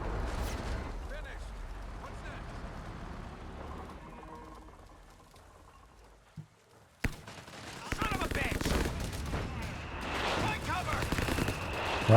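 Bursts of LEIG infantry-gun fire in Company of Heroes 3 rattle through a noisy battle soundscape, a dense run of shots, a lull, then a heavier barrage returning loudly, with commentary talking over it.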